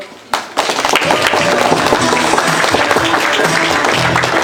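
An audience applauds at the opening of a bike map in Uzhhorod, a dense, sustained clapping that starts abruptly and fills the room.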